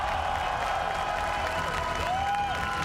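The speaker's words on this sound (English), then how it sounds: "please, a round of applause for your champions!" An esports arena crowd at the Esports World Cup, Riyadh Masters 2024, applauds and cheers its champions in a dense, continuous roar of clapping, with a few faint voices rising over it.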